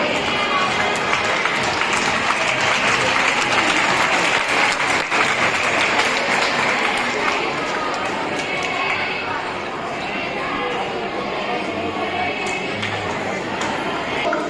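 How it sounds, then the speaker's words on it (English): Sustained, loud applause from a school audience at a leaders' investiture ceremony honouring junior grade prefects, continuous clapping throughout with crowd noise and a voice over it. "please give a huge round of applause for all of our junior grade prefects"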